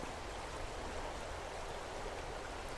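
A river flows in a soft, even, continuous rush, faint and steady throughout with no voices over it.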